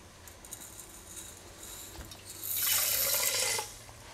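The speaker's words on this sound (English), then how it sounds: "now I'm going to dissolve the copper sulfate into 400 milliliters of" Water is poured onto copper sulfate crystals to dissolve them, a soft splashing rush lasting about a second after quiet room tone, faint and without speech.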